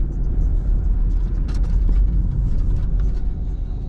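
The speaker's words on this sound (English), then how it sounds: "So just driving into Nunnington" A car entering the North Yorkshire village of Nunnington, a loud close low engine and road rumble from inside the vehicle, steady with a few faint higher clicks and rattles.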